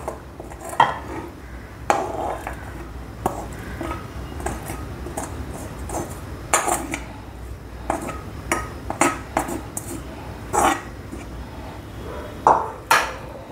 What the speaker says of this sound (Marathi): साबुदाणा मी या भांड्यात काढून घेते